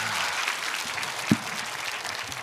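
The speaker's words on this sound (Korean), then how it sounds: "박수하겠습니다." Audience applause after a speech at a church political talk event, a continuous, moderately distant patter of many hands clapping with one sharper thump partway through.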